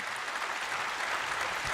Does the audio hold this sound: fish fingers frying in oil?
no